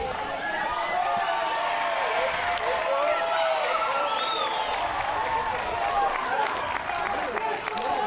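A crowd cheers and claps at a Little League baseball game, a sustained, dense roar of voices and applause that stays loud throughout, with shouts rising above it.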